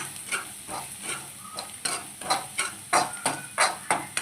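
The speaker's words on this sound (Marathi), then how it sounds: "त्यासाठी आपल्याला ह्या कांद्यामध्येच बेसन भाजून घ्यायचं आहे बारीक गॅसवर हे भाजून घेऊया आपण" Besan roasting with onions over a low flame, a regular series of spatula scrapes and knocks against the pan about every third of a second over a quiet frying hiss, close and with no talk.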